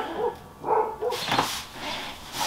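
Dogs bark outside in several short yips and barks, moderately close and scattered across the moment, with no talking over them.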